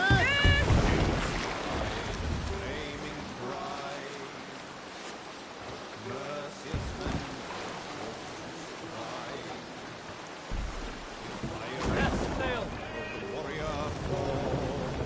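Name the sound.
sailing ship at sea in wind, video game Assassin's Creed Valhalla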